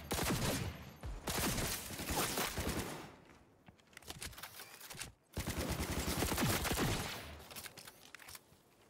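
Rapid automatic weapon fire in the video game Cyberpunk 2077: Phantom Liberty, loud sustained bursts with a short pause midway, then another long volley.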